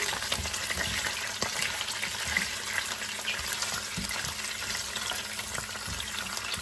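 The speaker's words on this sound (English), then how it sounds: "So I'm just browning it up a little bit, and this is not going to take long." Chicken pieces browning in a pan for butter chicken, a continuous dense sizzle and crackle with occasional soft knocks, close and steady throughout.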